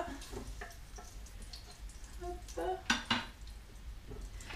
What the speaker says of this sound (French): Donc là, je sors mes saucisses de la marmite.